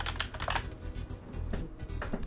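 Keys tapped on a budget semi-mechanical gaming keyboard: a quick run of close, crisp clicks in irregular bursts, with no voice.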